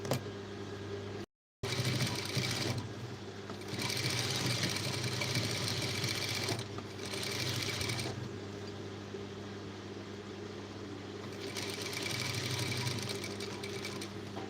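A sewing machine stitching lace onto a blouse runs in several steady whirring bursts separated by short pauses, close and fairly quiet, with a faint low hum throughout and no speech.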